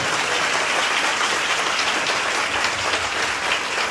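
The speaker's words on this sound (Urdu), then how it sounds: "زوردار تالیاں" Loud, dense applause from a church congregation at a Christian revival gathering in Hyderabad, Pakistan, sustained evenly and close throughout.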